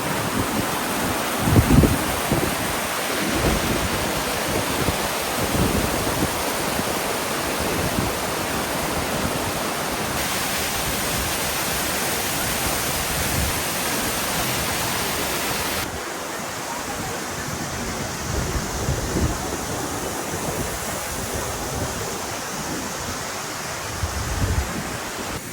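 Steady, loud rush of water flowing below a waterfall in Kazakhstan, a continuous broadband roar filling the scene with a faint low thump near the start and a slight shift in tone midway.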